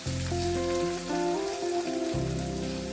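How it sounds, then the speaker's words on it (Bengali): Chopped onions fry in hot oil in a kadai wok, giving a loud, steady crackling sizzle close up with no talking. "এখানে কড়াইতে তেল গরম হয়ে গেছে এর মধ্যে আমি কিছু কুচানো পেঁয়াজ দিয়ে দিলাম এটা আমি ভেজে নেব"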